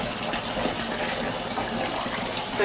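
Steady broadband rush of water pouring from a bath tap at low pressure, spilling over the edge, continuous and close with no voices.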